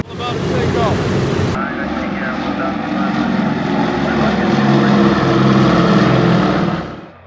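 Big World War II propeller bombers, a B-17 Flying Fortress and a B-24 Liberator, take off together, a loud steady drone of piston engines and airscrews that holds for several seconds before cutting away.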